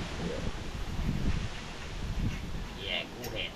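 Wind blows steadily outdoors, a broad rushing roar buffeting the microphone throughout, while a few faint voices and small sounds come and go in the background.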